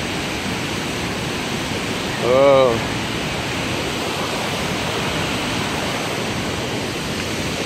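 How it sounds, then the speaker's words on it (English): The waterfall at Paronella Park, Australia, rushes in a broad, steady roar beneath a suspension bridge, with a short voiced exclamation partway through. "We are directly over the waterfall."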